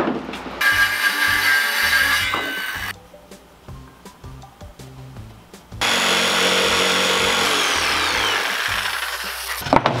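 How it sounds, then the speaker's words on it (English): A jigsaw cuts through half-inch MDF shelving around a pipe opening, with loud, steady buzzing sawing bursts separated by a quieter stretch of rattling, close and without talk. "then use a jigsaw to cut that out"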